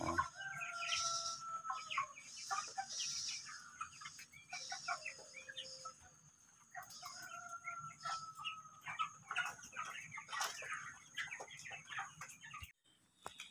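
Chickens raised for meat, 26 days old, clucking and calling steadily inside a farm coop, with overlapping bird calls throughout and a faint rooster-like crow among them; no talk.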